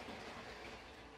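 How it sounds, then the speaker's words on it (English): LEGO train on its track under motor power, a steady close rolling rumble with light clickety-clack from the wheels, continuous throughout. "and that's the train running."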